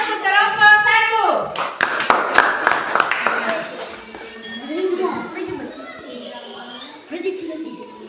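Classroom applause for a student group, a short burst of many children clapping mixed with lively child chatter, followed by a teacher and children talking.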